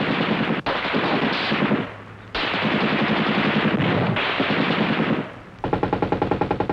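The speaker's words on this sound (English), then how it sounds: "As bullets crack through the trees" Sustained bursts of automatic machine-gun fire during a Rhodesian Forces combat contact, bullets cracking through trees, loud and continuous with short gaps and a rapid pulsing volley at the end, no talk.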